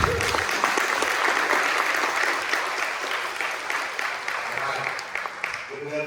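Audience at an Indigenous foods symposium applauding, a steady, fairly close wash of clapping that carries through and tapers slightly near the end.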